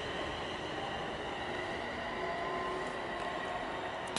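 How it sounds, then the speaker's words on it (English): Two Class 350 electric trains pull out of Dudley Port station together, a steady loud rumble and rolling rush with faint wheel squeal, heard close from the platform with no talk. "the Wolverhampton one's also ready to depart as well. Off they both go."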